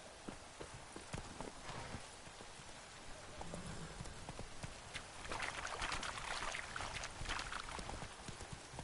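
Roach the horse clip-clops along in The Witcher 3, a steady run of hoofbeats set against a rain-like wash of ambient noise, with the hooves growing busier and louder midway.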